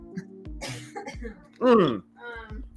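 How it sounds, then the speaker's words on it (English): A single harsh cough bursts out, loud and close, between stretches of a person talking. "You can hear that cough right now."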